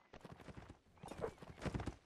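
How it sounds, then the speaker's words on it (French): Horse hooves clip-clop in a video game, a quick uneven run of hoofbeats that fades briefly, then returns louder, with a faint whinny-like tone mixed in. "Allez tuer le cheval là-bas."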